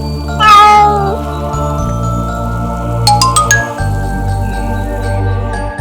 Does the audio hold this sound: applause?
no